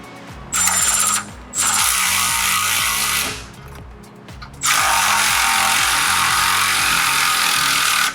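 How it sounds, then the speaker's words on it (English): A ratchet tightens bolts on a rear bumper of a 70 Series Land Cruiser Prado, giving quick rhythmic clicking bursts with short pauses between, close and loud. "We're gonna come in with a ratchet and finish these."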